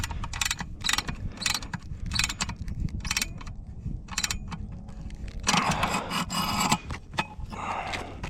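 Ratchet tightening the center fastener on a Starlink J-mount, rapid clicking strokes in bursts with short pauses, close and fairly quiet, ending in a longer rasping run of clicks.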